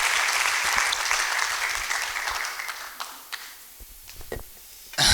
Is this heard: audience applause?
yes